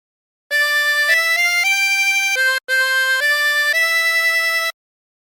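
A 20-hole tremolo harmonica plays the Hark the Herald Angels Sing phrase as clear, sustained reedy notes stepping up and down, with one brief breath break and no talking.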